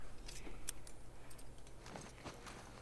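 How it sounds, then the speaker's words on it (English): Crafting a shiv in The Last of Us makes a quiet run of light metallic clinks and rattles, a few sharp jangling ticks spread over a faint background. "Yeah, let's make a shiv."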